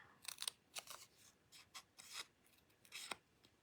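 Scissors trimming a paper banner edge along a pencil line for a slimline card, heard as a series of short, close, quiet snips and rasping cuts in an uneven rhythm with no talking.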